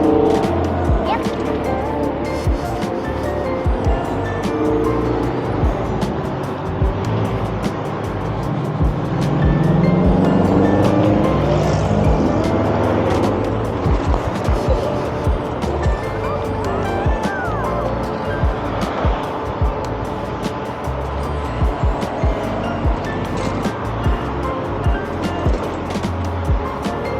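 A Jeep drives steadily along a road with loud, continuous engine and road rumble, joined by tire and wind noise, while people talk now and then over it.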